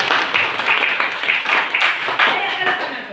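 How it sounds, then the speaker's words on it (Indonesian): Eighth-grade students in a Christian religious education class applaud together, a dense, fairly close patter of many hands clapping with voices mixed in. "Ginting, tepuk tangan dulu."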